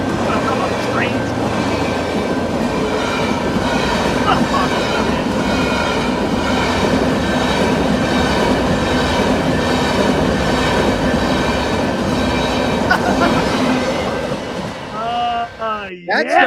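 A park train rolls past close by on its tracks, producing a continuous loud rumble with rhythmic wheel clatter and occasional squeals that fades near the end, with a bird chirping over it.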